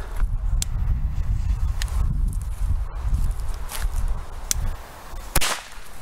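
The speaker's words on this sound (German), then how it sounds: "Die ersten sind hier die alten Weco Corsair." Old Weco Corsair firecrackers going off outdoors: several sharp, loud bangs at irregular intervals over a rough, low, wind-like rumble.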